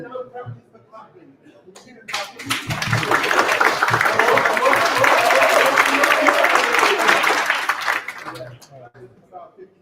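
An audience at a London demo night event practices clapping, breaking into a loud, dense burst of applause that swells for about six seconds before fading, with someone talking before and after.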